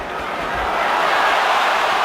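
Boxing arena crowd roaring for Manny Pacquiao in a bout against Morales, a loud, steady wash of massed cheering that rises slightly and holds without a break.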